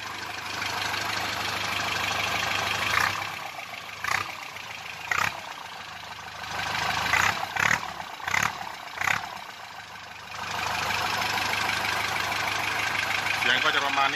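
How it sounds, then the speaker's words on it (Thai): A Toyota TC engine with a straight-through exhaust and the muffler removed revs several times, loud bursts rising over a rough idle, with someone talking between them. "ผมจะเร่งเครื่องให้ดูนะครับ"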